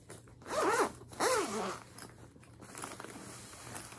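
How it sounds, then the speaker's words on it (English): A zipper on a crocheted yarn bag is pulled in two quick, rasping strokes close to the listener, followed by quieter handling noise. "has two zippers right here"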